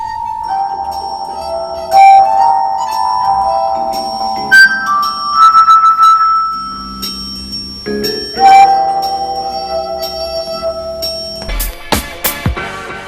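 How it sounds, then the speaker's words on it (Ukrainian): A melody rings out from wine glasses: clear, sustained tones shift from note to note with bell-like sparkle, and a quick flurry of bright strikes comes at the end, with no talk. "Відтоді Роман відомий креативний музика, який своїми скляними мелодіями тішить слухачів."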